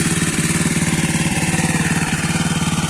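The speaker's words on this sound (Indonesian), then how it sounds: "Itu mesinnya." A small farm engine runs steadily to pump water through drip irrigation lines on a chili field, with a close, even, rapid chugging pulse throughout.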